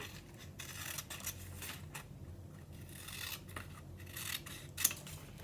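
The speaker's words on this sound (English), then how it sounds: "Be neat when you cut along the black line." Scissors cutting paper along a black line for a square, close and quiet with repeated rhythmic snips and crisp paper rustle, steady throughout.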